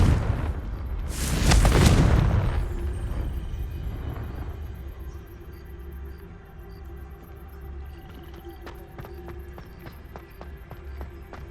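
A Confringo spell explosion in the video game Hogwarts Legacy bursts loudly early on as a broad roaring boom, then fades into a low rumbling tail with faint rhythmic ticks near the end.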